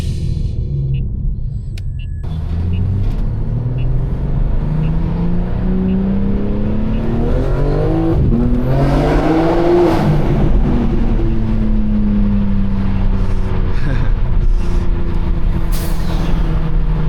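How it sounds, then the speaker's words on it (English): A loud turbocharged BMW M4 Competition engine revs and climbs in pitch as the car accelerates hard, with a deep rumble and rising whine throughout. "We got the real turbos in here."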